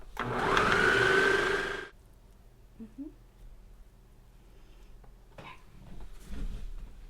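A blender whirs loudly for about two seconds while making cowboy butter, then cuts off, leaving quiet clinks and faint rustling.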